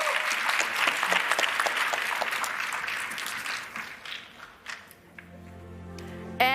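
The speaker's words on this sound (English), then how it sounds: "I would again ask everyone to give a big round of applause to all our panelists" Audience applause for panelists at a youth climate dialogue event at COP28 in Dubai: dense, steady clapping from a large crowd that thins and fades toward the end, with scattered single claps trailing off.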